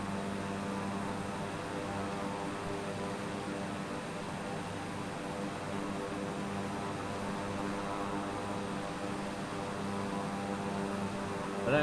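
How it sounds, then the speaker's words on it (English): A plane flies in Flight Simulator with Japan scenery, giving a steady, unbroken propeller-engine drone with a constant hum, loud and even from start to finish and with no voices. "There's a plane."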